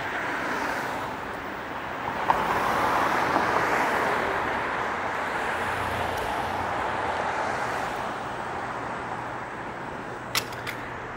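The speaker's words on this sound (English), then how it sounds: "Oh, there's some cars coming up just behind me" Cars passing on a Toronto road behind a moving electric scooter, a continuous broad rush of traffic and wind noise swelling and easing, with a couple of brief knocks near the end.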